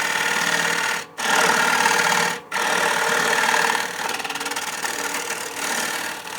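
Wood lathe spinning as a tool cuts away the tenon on a wet-turned bowl, a steady close, loud whirring hiss broken by two short pauses.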